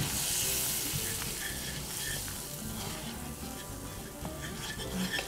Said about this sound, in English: the butter is melted, so I'll add the flour. Comes in now. Keep stirring